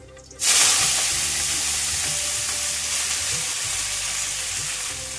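A sudden loud sizzle as fenugreek leaves drop into hot oil with browned garlic, then a steady, close frying hiss that continues with occasional stirring, no voices.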